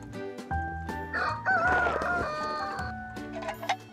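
A rooster crows loudly in a chicken coop below Mount Paektu, one long rising and falling cock-a-doodle-doo, with hens clucking around it and more crowing from other birds nearby.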